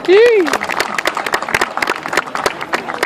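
Scattered audience clapping at a film audio launch event, irregular claps of moderate loudness after a brief voice at the start.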